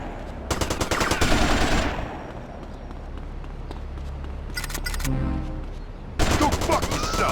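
Bursts of automatic gunfire in GTA Vice City Stories: a loud rapid volley near the start, a shorter burst in the middle and another at the end, with quieter game ambience between.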